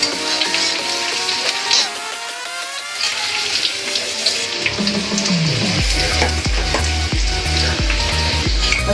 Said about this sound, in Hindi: थोड़ी देर के लिए उसको फ्राई कीजिए।